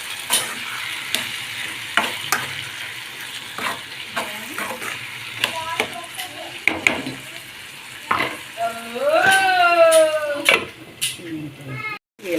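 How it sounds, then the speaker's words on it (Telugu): A spoon scrapes and stirs chilli powder and coriander powder into a sizzling vegetable curry, producing repeated knocks against the pan over a steady fry, while someone talks and a cat meows near the end. "బాగా కలుపుకున్నాం"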